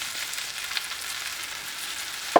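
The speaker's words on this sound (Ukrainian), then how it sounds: "Цибуля підрум'янилася, тож саме час додати грибочки." Mushrooms go into a pan of browned frying onions, raising a soft, steady sizzle with a small clatter at the very end; no one speaks.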